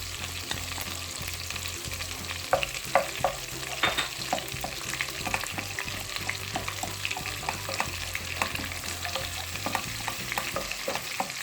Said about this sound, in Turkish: İyice ezelim salçamızı.